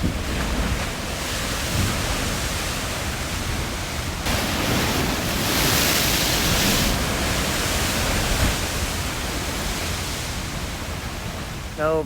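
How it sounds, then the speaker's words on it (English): Ocean waves surge and splash at Thor's Well on the rocky Oregon coast near Yachats, a loud continuous roar of surf mixed with heavy wind buffeting the microphone, swelling midway. "Thors Well is out behind me here where you can see the wave action splashing up over there"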